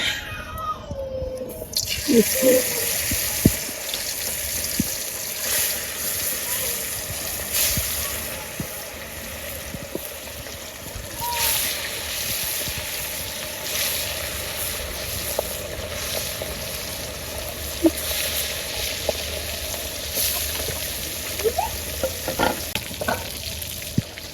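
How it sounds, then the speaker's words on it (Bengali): Fish pieces rubbed with turmeric and salt fry in hot oil, a loud continuous sizzle with scattered pops and spits that carries on steadily throughout. "এখন লবণ ও হলুদ মাখা মাছগুলো দিয়ে ভেজে নিব"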